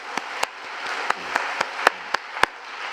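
Sharp, scattered hand claps ring out from a church congregation at a 30th-anniversary revival service, about ten distinct claps in loose rhythm over a low murmuring background.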